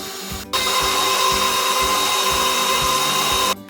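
An electric mixer whirs steadily through lemon loaf cake batter, switching on abruptly and cutting off three seconds later, with a rhythmic thumping of the beaters against the bowl underneath the loud motor drone.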